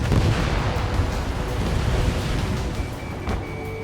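A fighter jet's missile launch in Ace Combat 7 comes as a loud roaring whoosh over engine rumble, steady and broad, fading slightly toward the end.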